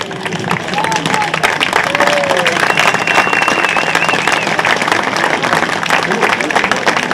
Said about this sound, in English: let's give Coach Vic one more standing applause.